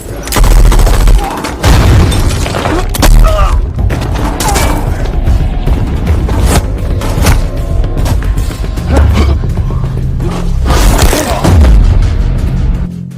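Gunfire and explosions from an action film, with heavy booms and sharp bursts of shots hitting repeatedly at close, loud range, plus scattered thuds and brief gaps between the volleys.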